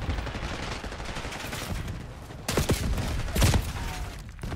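Shotgun fire in the Black Ops 6 beta, a dense ongoing barrage of gunfire with several louder, sharper blasts standing out near the end.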